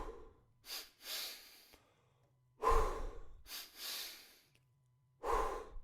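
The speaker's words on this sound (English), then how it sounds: "a breathing technique called the double inhale and the long exhale" A person demonstrates a double inhale followed by a long exhale, with quick paired sniffing breaths and drawn-out airy exhalations repeating in a slow cycle, close and fairly quiet, with no talking.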